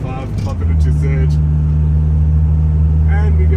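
A 44 kW Mercedes car shifts into third gear while climbing a steep hill. Its engine holds a loud, steady, close drone, and someone talks over it.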